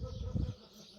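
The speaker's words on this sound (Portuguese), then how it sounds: "O que é que Ele nos quererá dizer com estes passarinhos a cantar?" Small birds sing faintly outside a church, with thin chirps sitting over a low, steady rumble of room and outdoor noise.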